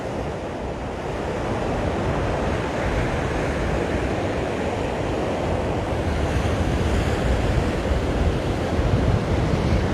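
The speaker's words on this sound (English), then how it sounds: "See how choppy it is, even once you get past these wave breaks" Choppy ocean surf breaks continuously at Waimanalo Beach, Hawaii, a loud broadband wash of waves mixed with buffeting wind noise on the microphone, steady for the whole stretch with no talking.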